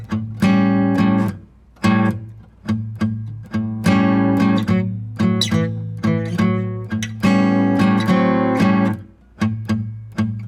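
A slow acoustic guitar shuffle, strummed chords and bass notes in a steady loping rhythm across several bars, played alone and up close.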